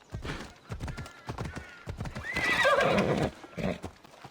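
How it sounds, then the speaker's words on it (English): A horse ridden in Assassin's Creed Odyssey clip-clops steadily at a brisk pace, close and clear, and partway through it lets out a loud whinnying neigh over the hoofbeats. "we'll just head over on the horse"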